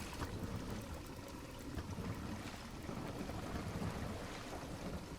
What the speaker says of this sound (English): we can hear the water beginning to funnel through the drain